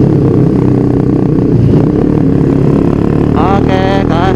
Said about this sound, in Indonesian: Tiga, empat, lima, enam,